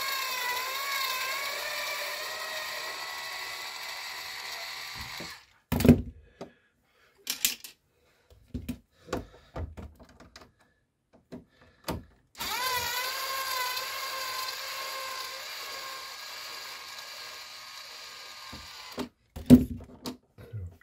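An electric screwdriver backs screws out of a DeLonghi Magnifica coffee machine grinder, two long, close whirring runs with a shifting motor pitch, separated and followed by sharp clicks and clatters of parts being handled.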